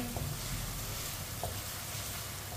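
Garlic and onion frying over medium heat give a soft, even sizzle that runs steadily throughout, with a couple of faint stirring taps.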